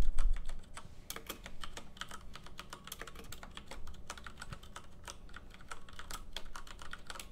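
Rapid, close typing on a computer keyboard in a quiet office-style setting, a dense patter of crisp key clicks in bursts with brief pauses, soft and steady throughout.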